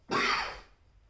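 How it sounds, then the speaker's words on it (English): A single dry, raspy cough, close and fairly loud, fading quickly into quiet. "Just dry cough."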